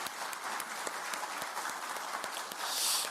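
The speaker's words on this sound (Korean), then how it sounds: "고생하신 이재명 대통령께 큰 박수를 부탁드립니다." A crowd at a political party workshop breaks into sustained applause, a dense wash of many hands clapping that holds steady and swells slightly near the end.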